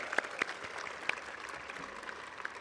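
Faint, distant applause from a graduation crowd, scattered claps standing out over a soft continuous wash of hands for a few seconds.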